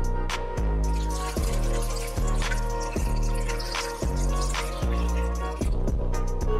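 Water poured into a cooking pot holding garlic, onion, ginger and red chili while a salted mutton curry is made: a steady, close gurgling pour with rhythmic glugs repeating about every second, heard alone.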